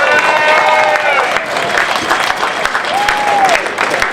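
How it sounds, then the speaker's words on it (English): A crowd at a Save Our Hospitals march in Southall cheers and applauds loudly and steadily, dense clapping mixed with shouts and whoops close by. "I think we should give them a huge cheer."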